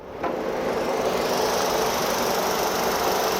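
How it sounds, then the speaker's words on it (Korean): Engine of an old, high-mileage Renault Samsung SM5 idling with the bonnet open, a steady close mechanical drone with a faint rattling texture that starts abruptly and holds evenly, no talk. "약간 엔진의 소리는 어떨지, 또 약간 잡소리가 나진 않을지 본넷을 한번 열어봐야겠죠"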